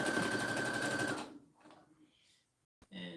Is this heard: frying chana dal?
no